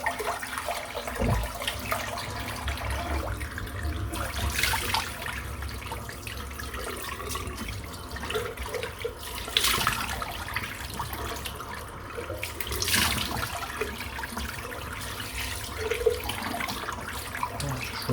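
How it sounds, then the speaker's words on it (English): Running tap water pours over a synthetic shaving brush being rinsed, a steady hiss with surges and splashes lasting throughout, no voices. "Just rinse the brush out."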